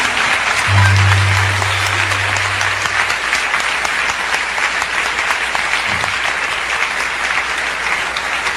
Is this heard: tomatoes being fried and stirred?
no